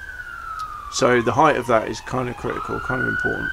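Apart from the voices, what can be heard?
emergency vehicle sirens passing by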